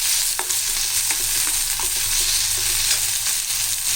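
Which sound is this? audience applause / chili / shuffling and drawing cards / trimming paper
chili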